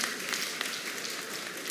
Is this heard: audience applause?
yes